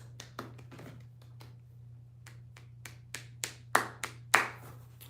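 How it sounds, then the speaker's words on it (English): Slow hand clapping: a handful of sharp claps spaced well apart, growing louder toward the end, over a steady low electrical hum in a quiet room. "A little slow clap here."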